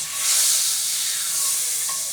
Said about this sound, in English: See how fast that sizzles?